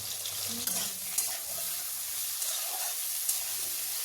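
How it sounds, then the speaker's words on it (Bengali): Salted white eggplant pieces fry in oil for a coconut-milk shukto, a soft steady sizzle with occasional stirring clicks and light scrapes, no voices. "আগে থেকে নুন মাখানো সাদা বেগুনের টুকরোগুলো একটু হালকা করে ভেজে নিতে হবে"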